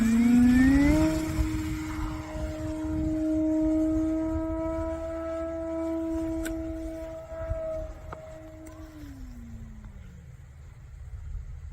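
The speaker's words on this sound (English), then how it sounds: "Up and away. Here we go. Prometheus e-flite." An E-flite Prometheus RC airplane flies past, its electric motor a sustained whining tone that swells, holds steady, then drops in pitch as it pulls away, alone without talk.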